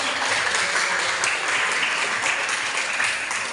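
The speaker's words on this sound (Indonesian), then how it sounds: "Kita berikan tepuk tangan dulu." Classroom applause for a student group after a presentation, a dense steady patter of many hands clapping at close range, continuous and evenly loud throughout.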